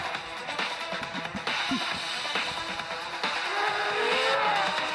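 Motorcycle engines in a racing video game roar and rev in a continuous loud drone, with tires squealing and the pitch rising as they accelerate. No speech is heard over them.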